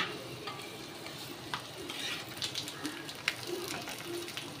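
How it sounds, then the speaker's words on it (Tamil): Ragi frying in ghee over a low flame makes a soft, quiet sizzle, broken by light scattered ticks and scrapes of stirring close by. "லோ ஃப்ளேமில் வச்சு ஒரு 2 நிமிஷம் நல்லா பொரித்து எடுத்துக்கோங்க"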